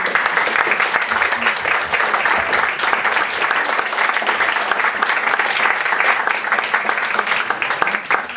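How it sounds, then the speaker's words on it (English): A crowd applauds steadily, dense clapping sustained for several seconds without pause. "So a round of applause for this strong."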